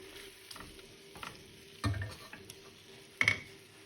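Cut potatoes and carrots in a frying pan: a soft sizzle runs underneath, broken by a few stirring scrapes and two louder clatters of the pieces, heard close and quiet with no talking.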